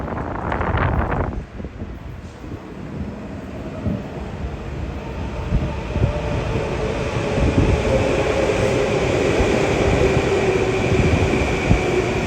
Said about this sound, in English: Long Island Railroad's track geometry car, TC82, is going to be heading through Merrick